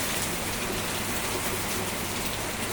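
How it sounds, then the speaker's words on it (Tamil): Steady rain pours down outdoors in a dense, continuous hiss of drops striking surfaces, loud and unbroken with no voices over it. "சரியான மழை."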